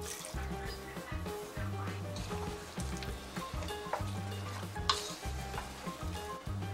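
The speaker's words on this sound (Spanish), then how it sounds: "Vamos a agregar ahora las arvejas." Peas go into barley rice cooking in a pan, and the food sizzles and fries with stirring and scraping throughout. Clinks and a low rhythmic hum sit underneath.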